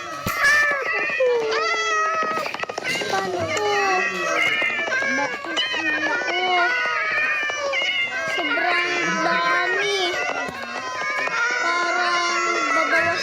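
Many cats meowing and caterwauling in the video game Craftsman, a dense overlapping chorus of loud mews that runs throughout while a person talks over it.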